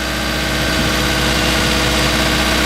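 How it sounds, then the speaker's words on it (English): A Toyota Previa's mid-mounted engine idling beneath the van, heard up close as a loud, steady, even drone with fine rhythmic pulsing and no other sounds. "There's the engine, guys."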